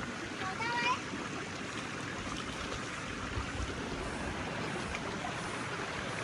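A fast mountain stream near Naran rushes steadily past, a continuous close, dense wash of flowing water with no breaks, with a faint brief voice near the start.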